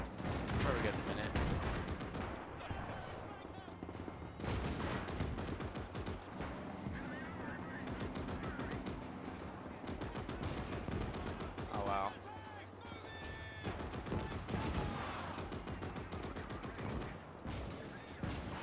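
Dense bursts of machine-gun and rifle fire crackle through a World War II battle in Gates of Hell: Ostfront, defending Fort Pilastrino in Libya in 1941, with occasional voices under the shooting.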